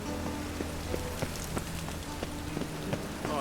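Steady rain falls in The Witcher 3, a dense continuous patter with scattered louder drops striking surfaces, close and even throughout with no talking.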